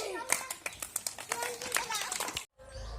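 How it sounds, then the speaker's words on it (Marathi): Children at a school games fair clap for three cycle race participants, a burst of quick, uneven claps close by, mixed with children's voices, then cut off abruptly. "सगळ्यांनी या तिघांसाठी टाळ्या वाजवा रे"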